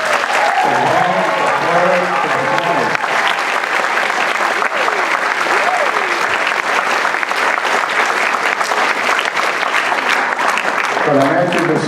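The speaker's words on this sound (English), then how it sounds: "Let's give them a round of applause." Sustained audience applause at a Veteran's Day intergenerational ceremony, a dense even wash of clapping for about twelve seconds, with brief voices heard at the start and again near the end.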